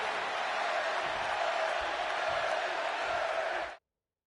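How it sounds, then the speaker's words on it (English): Chicago arena crowd in the WWE 2K26 video game, a dense continuous roar of cheering and noise that holds steady then cuts off abruptly. "And just listen to this crowd here in Chicago"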